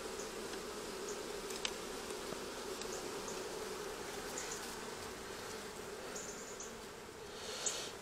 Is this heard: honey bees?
yes